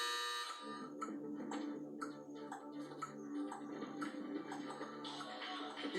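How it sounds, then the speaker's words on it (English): A loud, harsh electronic game-start buzzer sounds in a Big Brother Naija house, a long steady tone with bright overtones that persists under faint tapping and shuffling. "Next will be the buzzer to indicate that your game has begun and your time is counting."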